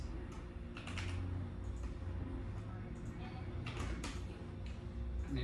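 Typing on a Logitech G413 gaming keyboard, a steady stream of close mechanical key clicks with a few louder strokes, continuing throughout over a low background hum.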